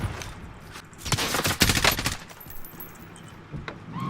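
Kriss Vector submachine gun in Call of Duty Warzone, loud and close, firing several rapid bursts that are heaviest midway, with a few sparser shots near the end.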